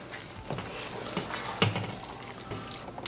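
Meatballs in white sauce with parsley flakes being mixed in a pan, with a soft wet stirring and scraping noise over a steady low sizzle, close and fairly quiet.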